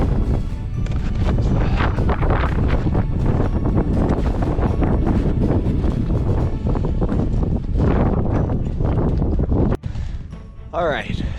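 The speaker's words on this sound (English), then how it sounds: "It's very windy and very cold up there." Strong, cold wind above the tree line on a December mountain hike buffets the microphone in a steady roar throughout, with gusty rumble and a brief dip near the end.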